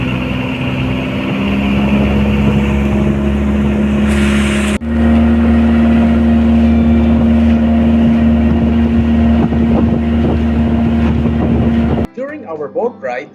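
Motorboat engine droning steadily at close range during an island-hopping ride off Batangas, passing Sombrero Island toward Maricaban Island, with a steady hum and wind noise; a voice talks over it before the engine noise abruptly cuts out near the end.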